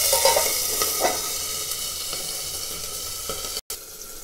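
Green chillies fry in oil in a pan, giving a continuous close sizzle with faint stirring crackles. The sizzle cuts out briefly near the end.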